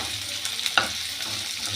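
Onions fry in a pan for tomato chicken, a soft steady sizzle with one brief sharp clink of a utensil midway, nobody speaking.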